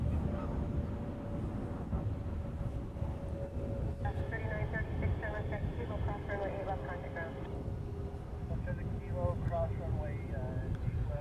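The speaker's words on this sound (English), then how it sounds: "It's a Dreamliner 9." A Boeing 787-9 Dreamliner departs Honolulu airport bound for Tokyo, heard as a distant, steady jet roar under outdoor wind. Someone talks over it for most of the stretch.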